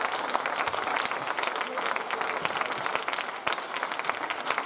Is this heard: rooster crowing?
no